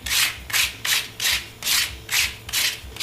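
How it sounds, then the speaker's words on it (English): Hand sanding scrubs rust and corrosion buildup off a wheel hub in six rhythmic back-and-forth strokes, each a bright, close, gritty rasp with brief pauses between. "Go in here and sand this all off"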